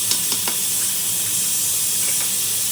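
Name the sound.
spices sizzling in hot oil for chana curry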